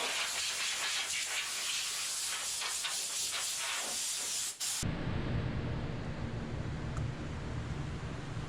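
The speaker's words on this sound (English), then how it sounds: "I'm going to end up spraying the backside of the fender as well with the rust inhibitor" Aerosol rust inhibitor sprayed onto the backside of a car fender on a Honda CRX project, a steady close hiss that runs for about five seconds and then gives way to a lower, duller hiss.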